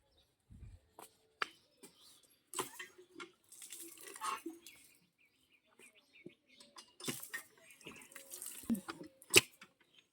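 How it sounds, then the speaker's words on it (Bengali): Water splashes and trickles in short irregular bursts as someone washes their face outdoors near a pond, close and fairly quiet, with brief gaps of near silence. "তোর মুখ ধোয়া হয়ে গেলে এবার আমি মুখ ধোবো"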